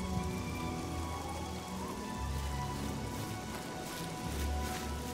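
Steady rain falls in the Oblivion video game, a continuous close hiss of drops with no breaks and no talk.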